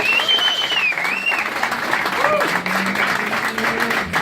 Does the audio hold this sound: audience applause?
yes